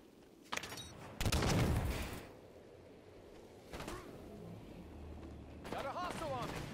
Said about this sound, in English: The enemy fire.